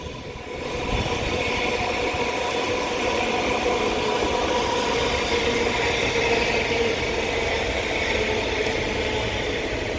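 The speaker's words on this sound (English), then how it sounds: "This double Northern 331 now arrives into Preston with the 1423 Northern service to Blackpool North from Liverpool" Two coupled Northern class 331 electric multiple units pull into a station at Preston on the West Coast Main Line: a steady, loud rumble of wheels and motors that swells in over the first second and holds throughout, with no talk.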